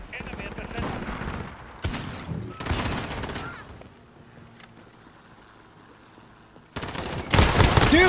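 Gunfire in Call of Duty Modern Warfare during a Hardpoint match: rapid automatic bursts and single shots crackle in clusters, with quieter gaps between and louder fire returning near the end, while a player talks over it.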